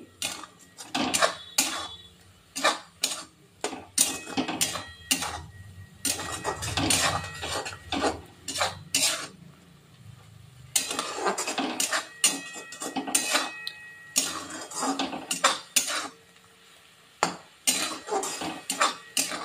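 Spices with Kashmiri chili powder being stirred and sautéed in a pan, a steady run of close, sharp metallic scrapes and clinks of utensil against the pan, in quick repeated bursts with brief pauses.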